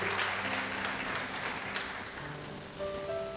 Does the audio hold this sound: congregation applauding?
yes